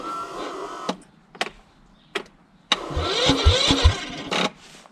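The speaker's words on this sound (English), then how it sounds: "Let's see if it cranks the engine." A car engine is cranked using a portable 12V jump starter: a few short clicks and whirs, then a grinding crank with a rhythmic churning pulse, lasting a couple of seconds before cutting off abruptly.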